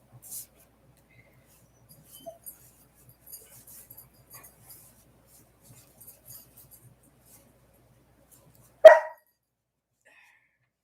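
A single sharp dog bark rings out near the end, loud and close, after a long stretch of near silence broken only by faint scattered clicks and movement.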